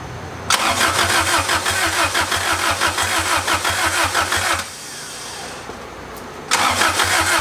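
The turbocharged H22 engine in a Honda Civic fires up for the first time, with rhythmic cranking bursts and rough catches, a brief lull, then another loud crank close by.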